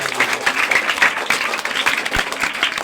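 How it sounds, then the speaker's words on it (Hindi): Enthusiastic audience applause after a song performance at a Teachers' Day event at an education institute, brisk close clapping from many hands, loud and fluttering for a few seconds. "जोरदार तालियों से स्वागत करिए।"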